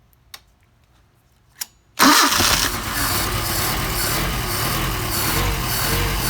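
A cold engine fitted with a Solex carburetor is started on choke. Two faint clicks come first, then it catches abruptly and settles into a loud, steady, slightly uneven idle close by.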